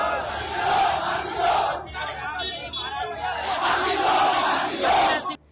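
A rioting crowd in the streets of Muzaffarnagar, with many voices shouting and chanting together in loud surges, swelling and dipping over several seconds before cutting off abruptly.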